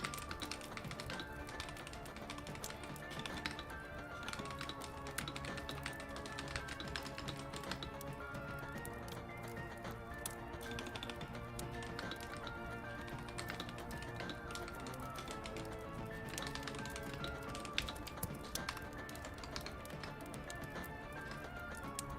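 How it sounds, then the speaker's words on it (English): Quick clicking keystrokes from a keyboard tap along steadily beneath continuous background music, with no talking. "I can hear you typing."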